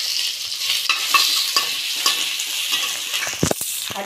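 Grated ginger and torn bay leaves fry and sizzle in a pan while being stirred, a steady hiss broken by scraping stirs and a few sharper clatters near the end, with no talking.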